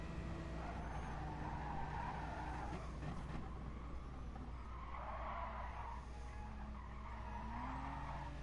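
Race car tires skid and squeal in the racing video game Gran Turismo Sport, a faint, continuous engine drone with wavering screeches rising and falling over several seconds.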